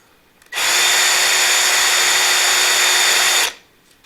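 A power drill spins a bushing in a short, steady burst, with a loud, even motor whine starting abruptly, holding for about three seconds, then winding down, and no talking.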